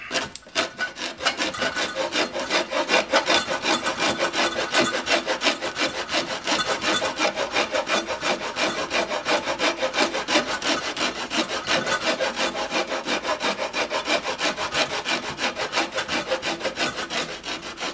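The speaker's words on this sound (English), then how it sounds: "Then you take your rasp and you clean it up." A rasp files the wood of a handmade bow's fades in fast, continuous back-and-forth strokes, loud and close, with a dense scratchy rhythm and no talking.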